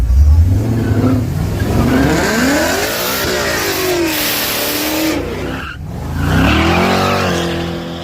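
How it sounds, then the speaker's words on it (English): A loud race car engine roars and revs steadily during a half-track burnout while tires squeal and screech continuously, the pitch sweeping up and down, with a surge near the end. "He done did a half track burnout"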